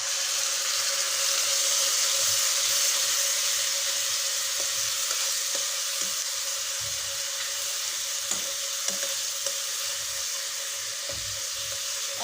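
Onions sizzle steadily in hot oil seasoned with panch phoron and fenugreek, a loud continuous frying hiss with a few soft stirring knocks, no voices.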